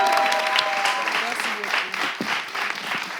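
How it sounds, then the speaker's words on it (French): An audience at a live event gives the candidates a dense, steady round of clapping, loud and close, while a voice speaks briefly over it. "Un tonnerre d'applaudissements pour eux."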